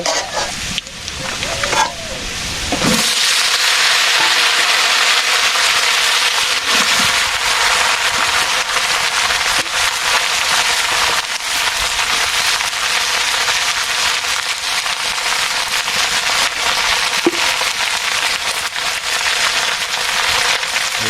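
Vegetables sizzle and fry steadily in a pan, a loud continuous hiss lasting about twenty seconds after a brief clattering start, with occasional stirring scrapes.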